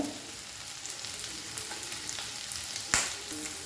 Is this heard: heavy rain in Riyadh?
no